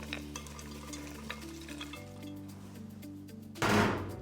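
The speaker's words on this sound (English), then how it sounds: "Give it a good stir." Chopped chocolate being stirred into thick cookie batter, giving soft, irregular scraping and clicking strokes over a steady tonal backdrop, ending in a brief louder burst of vigorous mixing.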